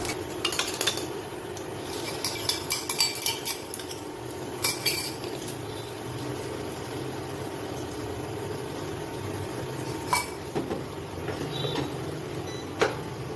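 Utensils clink and scrape against a pan while an egg omelette cooks over lightly sautéed vegetables, with irregular close taps over a steady low background hiss.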